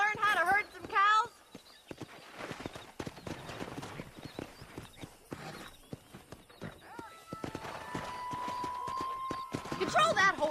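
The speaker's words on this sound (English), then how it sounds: "Control that horse, will you?" Horse hooves clip-clop in a steady walking rhythm in the video game Red Dead Redemption, with a horse whinnying near the start and at the end.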